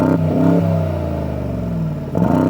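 Tuned Brabus G700 based on a Mercedes G63 revving hard, its deep bassy exhaust swelling and settling across a few throttle blips, loud and close with no talking.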